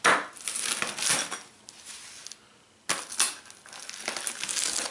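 A Sam's Choice smoked beef brisket pizza with smoky barbecue sauce is cut into six slices, giving crisp, crunching bursts of crust breaking under the cutter in two close groups with a short pause between them.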